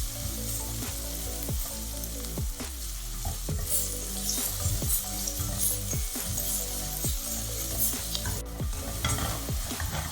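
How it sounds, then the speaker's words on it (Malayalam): Ginger and garlic sizzle and fry in a pan for a crab curry, with a constant crackling hiss and a steady series of scraping stirs from a spatula, close and clear with no talking. "ഇതിലേക്ക് ഇഞ്ചി, വെളുത്തുള്ളി ഇതിട്ട് പച്ചമണം മാറുന്നവരെ ഒന്ന് വഴറ്റിയെടുക്കണം"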